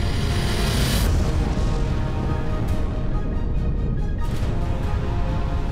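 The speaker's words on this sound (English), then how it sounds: "When a large star dies, it will end its life as a supernova with a crazy big explosion." A deep, rumbling boom depicting a supernova, the explosive death of a large star, opening with a heavy blast and rolling on as a sustained low roar.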